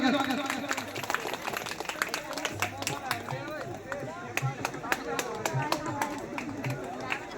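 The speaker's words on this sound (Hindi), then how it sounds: "जोरदार ताली बजा के स्वागत" Loud applause from a crowd welcoming a speaker at a political party meeting, dense steady clapping with voices and chatter mixed in throughout.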